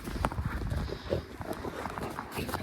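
Horses move about an outdoor homestead farmyard, their hooves clopping and shuffling irregularly at a moderate distance, with light ambient background noise.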